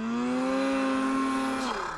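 A turbocharged snowmobile engine revs hard and steady on a snowy trail, its loud, close whine holding high before dropping off near the end.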